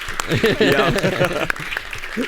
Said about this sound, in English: Let's give her applause for that